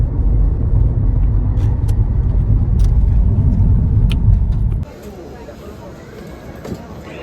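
A car drives through Langkawi, with a loud, steady low rumble of engine and road noise from inside the vehicle that cuts off abruptly near the end, leaving quieter ambience.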